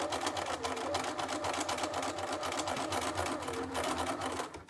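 Sewing machine basting a dress strap in place for a Little Lizard King Amsterdam pattern dress, a steady close whirring run of stitching that continues without pause.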